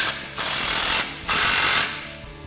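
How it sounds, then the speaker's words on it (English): A ratchet with a 15mm socket tightens an exhaust clamp on a Ford F-150 Roush single exhaust system, giving two bursts of rapid, close, dense clicking separated by brief pauses, with no talking. "loosely tighten that down with a 15mm socket"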